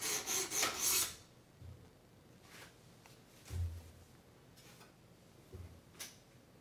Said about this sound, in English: Each progression in the diamond stones makes it a little bit smoother.